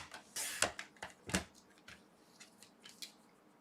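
Cardstock being cut to size for Easter cards, a few crisp snips and scrapes in quick succession, close but quiet.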